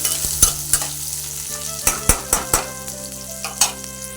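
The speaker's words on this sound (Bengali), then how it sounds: "আর এদিকে দিচ্ছি কড়াইতে পেঁয়াজ, গোটা রসুন, হ্যাঁ রসুন, আদা রসুন পেস্টও কিন্তু আমি দেবো। ভালো করে প্রথমে নাড়াচাড়া করে নিচ্ছি কিন্তু।" Onion, whole garlic and ginger-garlic paste stirred in a hot kadai, a steady sizzle punctuated by about a dozen sharp scraping knocks of the spatula against the wok in uneven rhythm, close and clear.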